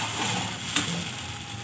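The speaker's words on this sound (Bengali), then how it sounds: "ভালো করে পোস্তটা কষিয়ে নেব।" Pointed gourd stir-fries in poppy seed paste with a steady, close sizzle and a single light stir or clink partway through.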